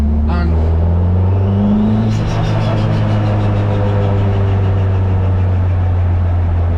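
A Toyota MR2 Mk3 engine turns just above idle in second gear at low road speed, a steady low hum close by with a rising whine, while a person talks over it.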